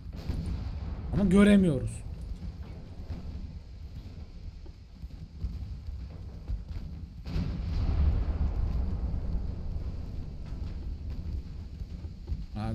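Naval shells exploding in Ultimate Admiral: Dreadnoughts, low rumbling booms rolling over a constant sea-and-engine drone, with someone talking over them.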